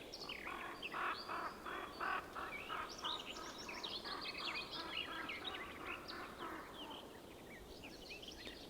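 Many small birds chirp and twitter in spring, with a steady run of overlapping calls and songs at moderate distance and no voices heard.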